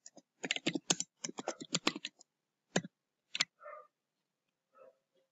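Fingers type on a computer keyboard while entering an axis label in Excel: quick bursts of close, crisp key clicks, then a few isolated taps and short pauses.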